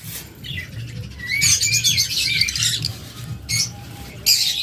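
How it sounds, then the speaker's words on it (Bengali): High-mutation lovebirds give shrill, raspy bursts of chattering squawks in several overlapping runs, loud and close, over a low background rumble with no voices. "এখানে রয়েছে আরেকটা হাই মিউটেশনের লাভবার্ড"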